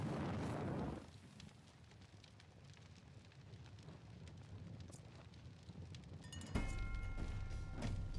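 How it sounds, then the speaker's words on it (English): A bear set ablaze with flames in the game Wartales, a roaring whoosh of fire that drops to a steady crackling burn, then surges again near the end with a bright ringing tone. "Catch the bear on fire."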